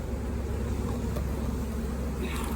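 Honey bees buzz at an open hive during a spring apiary inspection, a thick, continuous drone from many bees close by, steady throughout.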